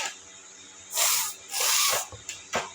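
A child imitates a snake with breathy hisses, two long sustained hisses followed by a couple of short sharp bursts, close and fairly loud against a quiet background.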